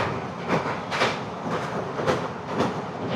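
Kamrup Express passenger train running on rails, a steady rumbling roll with rhythmic clickety-clack wheel beats recurring about every half second, close and continuous.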